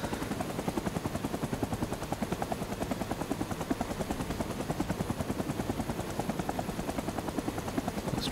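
Helicopter engine and rotor in the Rising Storm 2 video game, a loud, steady rhythmic thumping of the blades over a continuous engine whine, held without a break and with no talking.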